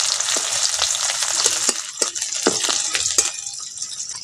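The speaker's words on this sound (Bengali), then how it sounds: "পেঁয়াজটাকে একটু ভালো করে ভেজে নেবো" Steady sizzle of chopped onions frying in a pan with intermittent scraping and stirring clicks, close and continuous with no voices.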